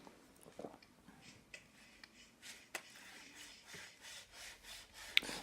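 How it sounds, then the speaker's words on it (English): Braided fishing line is rubbed back and forth over sandpaper until it snaps, a faint rhythmic rasping that runs for several seconds and ends in a small sharp crack. "we're testing the abrasion resistance of them by rubbing the line over a bit of sandpaper and seeing how long it lasts before it breaks."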